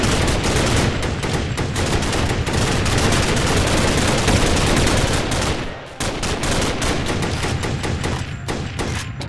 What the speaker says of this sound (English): I got some cover fire for you!